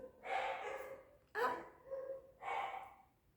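Three close, loud dog barks in a quick irregular sequence, each a sharp burst with a short tail, with nothing else beneath them.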